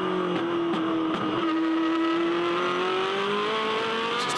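A Formula 1 race car engine screams at the 2010 Abu Dhabi race, heard from onboard during a lap as a steady, loud tone rising in pitch through the gears.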